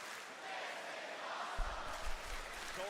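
A sold-out wrestling crowd in Providence roars in a dense, steady wash of distant cheering, with a few heavier thumps and swells toward the end.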